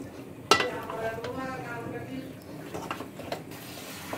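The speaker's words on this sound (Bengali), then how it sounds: "এখন ভালো মতো মাংসটা নেড়ে দিচ্ছে" Beef curry stirred in a pot, a spoon clanking against the metal with soft scraping and faint sizzling, under a voice speaking.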